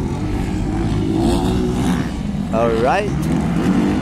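Inter 250cc motocross bikes racing at a Motor Ace series event in Lantapan, Bukidnon, their engines revving loudly with a rising whine near the end, under an announcer's running commentary.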